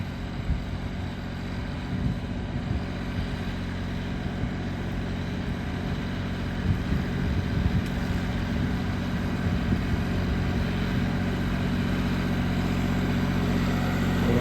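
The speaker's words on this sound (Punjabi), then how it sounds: "ਆਵਾਜ਼ ਬਹੁਤ ਸੋਹਣੀ ਹੈ ਟਰੈਕਟਰ ਦੀ" A heavy diesel tractor engine, its rotary fuel pump converted to an inline pump, rumbles steadily at close range, a low continuous drone with slight fluctuations and no voices.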